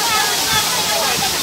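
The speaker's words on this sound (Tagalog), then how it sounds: "May falls pa rin hanggang sa taas" A waterfall roars steadily in an outdoor tropical-style spot, a dense continuous rush of falling water heard close and loud throughout.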